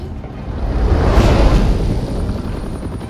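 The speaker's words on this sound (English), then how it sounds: "And there's the chopper." A helicopter in the Batman Telltale Series video game swells into a loud, steady roaring whoosh of rotor and wind noise that peaks midway and holds, with no voices over it.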